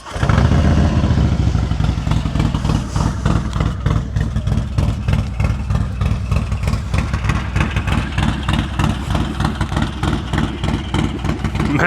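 A motorcycle engine, started cold, idles loudly and close up with a rapid, uneven clattering pulse that holds throughout, with no voices over it.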